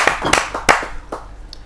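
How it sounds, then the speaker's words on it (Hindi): An audience at a Hindi kavi sammelan claps to welcome a poet, a short burst of scattered, sharp individual handclaps that quickly thin out. "जोरदार तालियों से आमंत्रित करते हैं राजवीर राज जी।"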